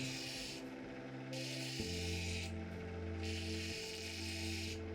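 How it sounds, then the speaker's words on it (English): An opal is being pre-polished on a grit wheel, the stone moved quickly across it to remove earlier scratches, giving a steady close rubbing rasp over a constant motor hum throughout. "moving the opal very fast over the wheel, knocking out all the scratches left behind by the previous wheel"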